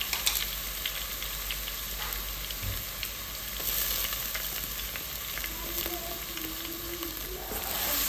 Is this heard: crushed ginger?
yes